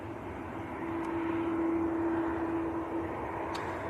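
A Turkish Airlines jet taxis at Manchester Airport, giving off a steady, moderately distant engine drone with a constant whining tone that holds evenly for several seconds.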